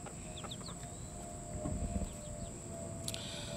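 Hens cluck softly in a backyard chicken run, with a few short calls scattered over a steady hum and a brief bright noise near the end.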